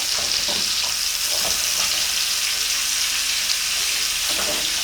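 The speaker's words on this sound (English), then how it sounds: "Now we're just going to baste it a little more." A rib steak sizzles and spits steadily in a hot pan while being basted with butter and olive oil, a constant bright frying hiss with faint spoon clinks and no speech.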